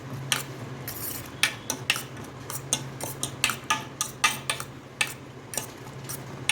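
Onion, two eggs, salt and pepper whisked together in a bowl, giving a steady run of sharp, close clinks of a utensil against the dish, repeated at an even rhythm with no voices.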